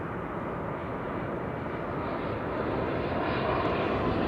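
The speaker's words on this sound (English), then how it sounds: "KLM Flight 636 arriving from Las Vegas. Dreamliner." A KLM Boeing 787 Dreamliner arriving at Amsterdam Schiphol on the flight in from Las Vegas, giving a steady, loud, broadband jet roar that holds without a break.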